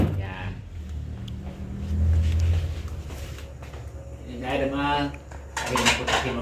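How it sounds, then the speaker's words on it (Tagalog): Dishes and cutlery being washed in a home kitchen, with clinking plates and utensils under running water and a low rumble, as someone talks throughout. "Ako ang naghuhugas dito"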